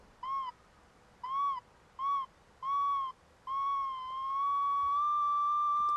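Pinpoint tone from a Nokta Legend metal detector as the coil is swept over a buried target: four short, harmonically rich beeps, then a steady, loud tone that rises slightly in pitch and holds as the coil centres on the target.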